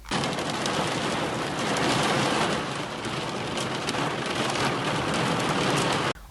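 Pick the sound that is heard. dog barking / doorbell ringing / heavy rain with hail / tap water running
heavy rain with hail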